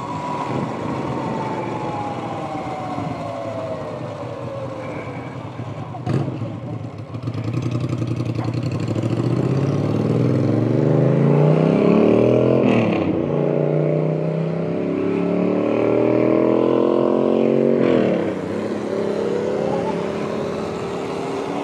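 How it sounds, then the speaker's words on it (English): A Ducati motorcycle engine rises in pitch and roars past close by, its revving swelling and fading among other passing traffic with a few clattering knocks, no voices present. "He's on a Ducati."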